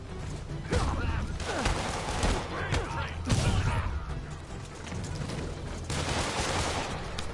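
Dense gunfire in Marvel's Spider-Man, rapid bursts and sustained volleys close and loud for several seconds, with a voice speaking over the shooting.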